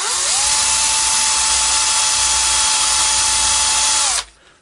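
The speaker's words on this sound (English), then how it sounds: "And drill the holes." A power drill whines steadily at full speed for about four seconds, loud and close, then spins down and stops.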